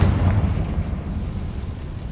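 Confringo blasting spell going off in Hogwarts Legacy, a heavy low boom that rolls on as a dense rumble for about two seconds, loud and close with no talk.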